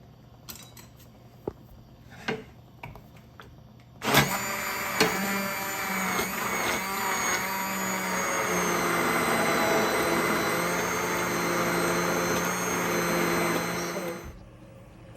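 A kitchen blender purees potato soup, starting abruptly after a few soft knocks and roaring loudly and steadily for about ten seconds before cutting off, close by with no talk.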